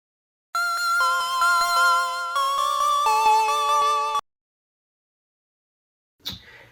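Sequential Trigon synthesizer preset 214 plays a short, bright chord riff of stepped stabs for about four seconds, followed by silence and a brief noisy burst.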